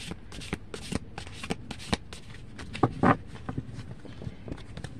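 A deck of playing cards is shuffled nearby in quick, crisp riffles and taps, irregular bursts of flicking over a quiet background.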